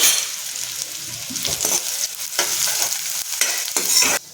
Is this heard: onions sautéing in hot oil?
yes